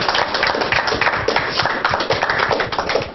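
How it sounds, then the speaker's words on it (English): A student audience gathered for a discussion applauds itself, close, loud and dense clapping with sharp individual hand claps standing out, continuing throughout without a pause. "y'all give yourself a round of applause"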